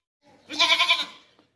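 A Makhi Cheena breed goat offered for the 2024 Qurbani gives one loud, close, wavering bleat of about a second, pulsing several times before trailing off, with no talk over it.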